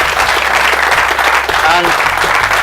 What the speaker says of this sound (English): So I want a big round of applause for Sue for letting us come here